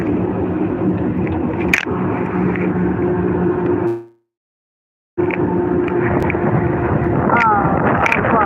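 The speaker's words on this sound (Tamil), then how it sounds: "பயங்கர காற்று, பயங்கர காற்று." Strong wind roars steadily with low rumbling gusts during heavy rain, cutting out briefly midway before returning just as loud.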